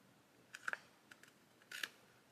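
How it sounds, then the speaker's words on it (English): Scissors cut card stock for card making, a few sharp, close snips in two quick clusters with short pauses between them, in an otherwise quiet room. "Need to cut it this way."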